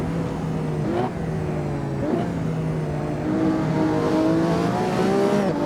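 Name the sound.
Radical SR3 XXR race car at speed on track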